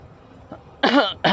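Someone coughs close by in a vehicle on the Skyway from Alabang to Manila: two loud, harsh bursts, a longer one followed by a short one, after a near-quiet lead-in.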